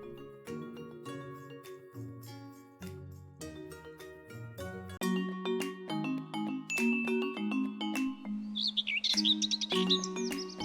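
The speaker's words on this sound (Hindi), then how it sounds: "ये बागीचा तो चिड़ियों की चहचहाट से गूंज रहा है।" Garden birds chirp in quick bright bursts near the end, layered over a steady tinkling melodic music bed that runs throughout.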